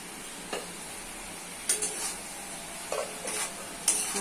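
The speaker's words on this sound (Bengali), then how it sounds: "এগুলো মশলার সাথে কষে দিতে হবে, কষে কষে রান্না করে দিতে হবে।" Pointed gourd, potato, eggplant and teasel gourd sautéed with spices in a pan: a low sizzle under several separate scraping strokes of a spatula, spaced about a second apart.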